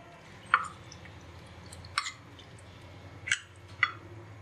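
Chicken marinade of black pepper, crushed cumin, green chili paste and vinegar being mixed in a bowl, heard as four separate wet squishes and drips over quiet background.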